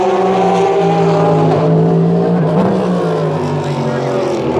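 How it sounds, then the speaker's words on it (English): Porsche and Cadillac race cars at the 24 Hours of Le Mans drone loudly through the last turn, their engines layered together in a sustained, shifting roar. "Iron Dame, navigating the last turn, followed by the Cadillac and then the Porsche Penske Motorsport."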